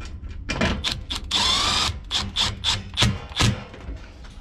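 Screws being driven back into the motor of a commercial refrigeration bar wine cooler with a power drill, heard as a string of short, close whirring bursts, one longer run near the start followed by several quick pulses.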